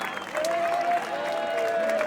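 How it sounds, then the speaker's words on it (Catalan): A crowd applauds the giants at the Barceloneta–Port Vell giants gathering festival in Barcelona, steady clapping that swells after a quarter second and carries on evenly, with festival sounds and a sustained melodic tone behind it. "Va aplaudir una mica, no?"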